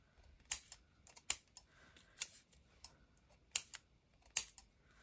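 Scissors snip along paper to make torn-looking binder edges: about six short, sharp, close cuts at irregular intervals over a quiet background.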